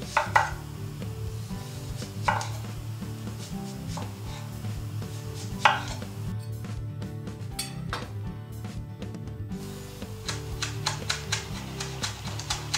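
A knife finely chopping radishes on a board: scattered sharp taps early on, then a quicker run of clicking cuts near the end, over a steady low tonal background.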